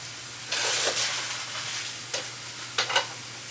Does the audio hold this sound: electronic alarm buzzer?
no